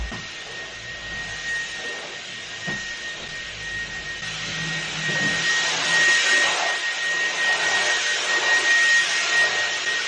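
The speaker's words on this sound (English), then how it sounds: "you're probably going to hear the Hoover still downstairs" A steady vacuum cleaner whine runs in the background from downstairs in a house, growing louder and more hissing halfway through, with a faint high tone and occasional thumps.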